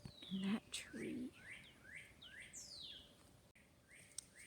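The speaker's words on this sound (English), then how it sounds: "I've been calling this bird for like 10 minutes now, and it's still out there" Wild bird calling from a tree outdoors, a string of repeated rising chirps at moderate distance, with brief low murmurs of nearby voices near the start.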